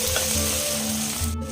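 Salt-and-turmeric coated prawns sizzling in hot oil with spice tempering in a pan, a short continuous close crackle with faint stirring, briefly cut off at the end, no speech.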